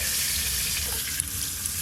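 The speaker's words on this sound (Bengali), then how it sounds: "তেল তো ভালো করে গরম হয়ে গেল, প্রথমে আলুগুলো ভেজে নেব।" Potatoes fry in hot oil, a faint continuous sizzle and hiss with a couple of small clicks, no talking.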